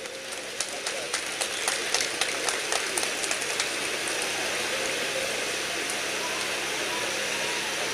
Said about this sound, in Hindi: कम से कम वो लोग तो तालियां बजा ही सकते हैं जिन्होंने इनाम हासिल किए हैं।